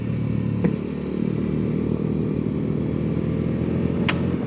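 A motorcycle cruises steadily along a road in third gear, its engine droning as a continuous, even hum with a couple of brief rattles, and no one speaking.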